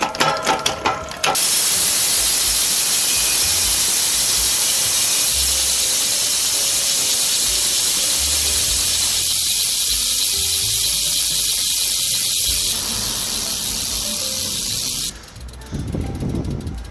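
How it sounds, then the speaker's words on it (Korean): Sepas Refined 6 bicycle wheel hub freewheeling, its ratchet giving a loud, heavy, continuous rapid clicking buzz close up, ending with a brief pause and a few slower clicks. "라쳇 소리가 되게 좀 묵직하고 웅장한 소리가 나긴 하네요."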